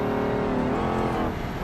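A BMW 5 Series in the racing game BeamNG, its engine droning steadily at high revs as the car drifts through a corner, a continuous close synthetic motor tone that dips slightly at the end.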